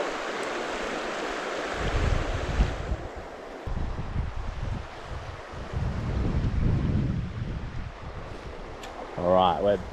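Strong headwind buffets the microphone on the Howqua River while fly fishing, gusting in loud irregular low rumbles over flowing water, with a brief knock near the end.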